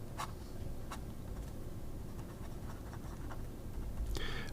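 Scribo Flow Armonia fountain pen with a soft, very wet nib writing on paper, faint scratchy strokes in short bursts over a quiet steady background hiss.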